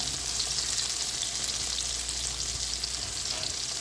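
Brinjal (eggplant) slices fry in a pan over a low flame, giving a steady, dense, close sizzle that holds even from start to finish with no talking.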